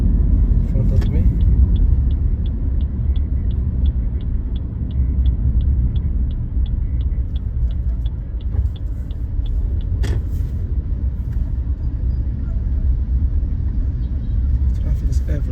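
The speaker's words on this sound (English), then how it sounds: "Traffic is everywhere in Abidjan." Road traffic in Abidjan, heard from inside a car as a low, steady engine and road rumble with a faint rhythmic ticking above it and a few soft knocks.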